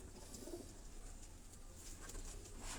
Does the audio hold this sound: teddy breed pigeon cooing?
yes